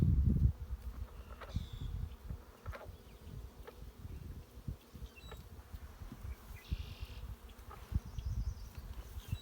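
Honey bees buzz at an open hive in early spring, a close, constant insect drone with individual bees whirring past and faint rustles, and no voices.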